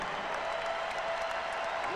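A sold-out basketball arena crowd at the Rose Garden in Portland rises in a standing ovation, with dense, sustained applause and cheering that stays loud and steady throughout, with a faint whistle or tone running underneath.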